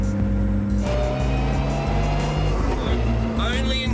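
A stripped-out Nissan R35 GT-R race car from 2007 drives on public roads, its engine a loud, steady droning hum that shifts pitch as it runs, heard from close by with a faint high whine near the end.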